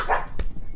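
Dogs barking indoors, reacting to a package delivered by the mailman: one short sharp bark near the middle of the moment, close and fairly loud.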